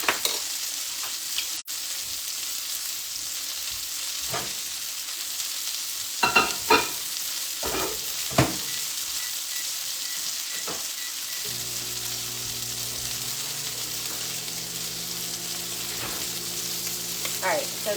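Breaded chicken cutlets sizzle in warm oil in a pan, a steady crackling fry with occasional louder pops and utensil clinks, no voices.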